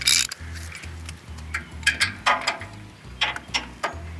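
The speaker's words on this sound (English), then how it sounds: "now I'm just gonna go ahead and put that bolt back in" A ratchet drives an oil drain bolt back in during an oil change on a TimberKing sawmill, giving a run of quick, close clicking bursts in an uneven rhythm.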